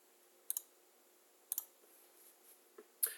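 Computer mouse clicks sound in a few sharp, quiet double taps spaced about a second apart against near silence.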